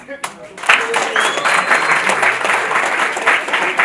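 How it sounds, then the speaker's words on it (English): An audience at a business pitching session breaks into applause after a quick build, dense clapping holding steady and fairly loud with some cheering voices mixed in. "A round of applause if you think fish is the guy."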